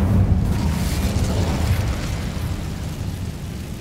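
The Incendio fire spell is cast in Hogwarts Legacy, a loud, steady whooshing roar of flame like a burst, fading slightly over a few seconds with no talking.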